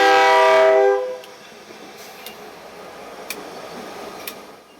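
Maryland Midland diesel locomotive arriving at Union Bridge, opening with a loud sustained horn blast that cuts off after about a second, followed by quieter rumbling and a few faint clanks.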